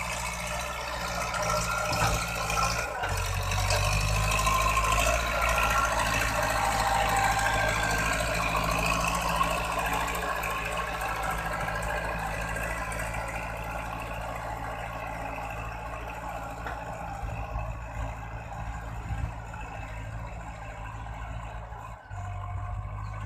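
A Kubota L47 tractor engine runs continuously at a steady, low rumble, fairly close, while ploughing up a rice paddy bund, with a slight shift in tone midway and no voices.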